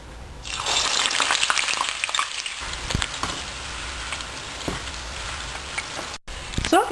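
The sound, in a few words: deep frying sliced onion in hot oil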